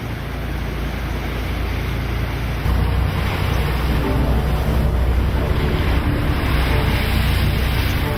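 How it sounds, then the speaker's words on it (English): Blustery wind buffets the microphone aboard a sailboat heading out of a harbour into open sea on the way to Iceland, with a constant rushing roar and the wash of waves against the hull. "It was blustery when we left the protection of the harbour."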